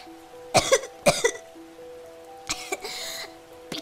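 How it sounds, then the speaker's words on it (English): Two sharp coughs in quick succession, then another pair of rougher coughs a moment later, close and loud over a faint steady hum. "She coughed."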